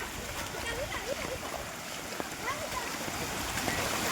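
Floodwater from a swollen river in Kutch rushing and splashing steadily through fields, a continuous churning flow heard at moderate distance with faint voices in the background.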